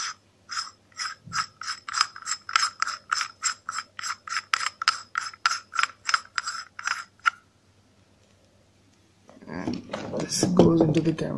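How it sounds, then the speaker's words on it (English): A T2 adapter is screwed onto a Nikon mirrorless camera, giving a close run of regular ratcheting clicks that stops abruptly; after a brief pause, handling noise and faint talk follow. "T2 adapter for it, and I can actually screw it on."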